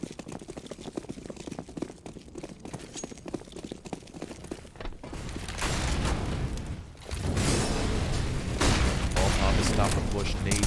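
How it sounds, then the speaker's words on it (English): Gunfire in a Counter-Strike match on the Overpass map, with scattered sharp shots and bursts under a commentator's voice, then denser, louder sustained firing and explosive noise in the second half. "A few bullets are going to come through the smoke, and it's going to find their way onto Stanislav's body."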